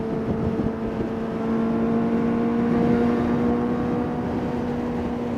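A Suzuki GSX-S motorcycle engine holds a steady high-rpm drone with a strong constant pitch, loud and close and sustained throughout without any voices.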